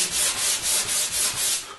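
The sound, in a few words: sanding the edge of a wooden cajon kit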